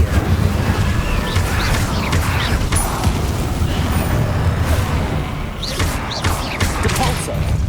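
The Incendio fire spell is cast in the Hogwarts Legacy video game, a loud, continuous roaring whoosh of flame with rumbling booms and crackles running throughout.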